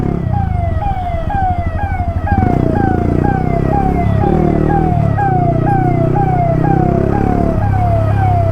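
An ambulance siren wails in city traffic, loud and close, its rising sweeps repeating steadily over the rumble of engines.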